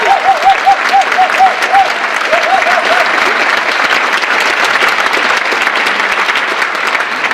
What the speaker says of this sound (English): So just a round of applause for Eben for this.